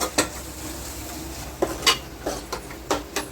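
A spoon stirring egg pulusu curry in a pan, scraping and clinking against the metal in a handful of irregular strokes over a low, steady background hiss.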